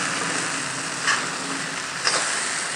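Okra coated in masala frying in a pan, a steady soft sizzle with two brief scraping stirs of a spoon along the side of the pan.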